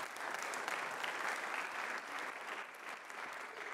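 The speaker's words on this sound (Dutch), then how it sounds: "En dan meteen applaus van de zaal" A lecture-hall audience at a Tilburg University Studium Generale lecture claps steadily, producing a dense, even wash of applause that holds for several seconds at a fairly constant level.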